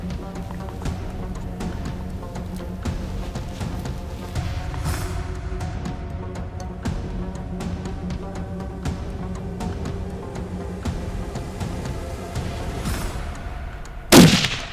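A single rifle shot rings out while hunting Beceite ibex on a hillside in Spain: one sharp, loud crack near the end, after a steady stretch of quiet outdoor ambience.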